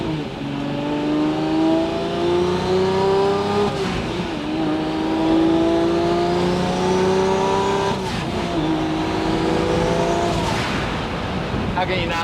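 A Lamborghini Murcielago V12 revs loud and close in repeated rising sweeps, its throaty roar climbing and dropping several times in a steady drone.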